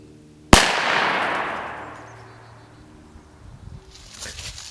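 A Stevens 301 20 gauge shotgun fires a single sharp, loud shot outdoors, its report ringing and decaying over a couple of seconds before faint rustling.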